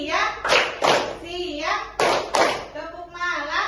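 Hand claps in a classroom clapping game, sharp broadband bursts landing in pairs, close and loud, with children's voices and talk mixed in between.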